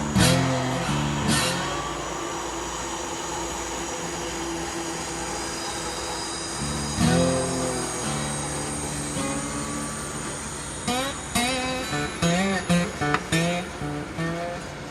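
An HO scale model coal train runs on a layout, giving a continuous mechanical rumble with occasional wheel squeals and a cluster of clicking rail-joint taps near the end.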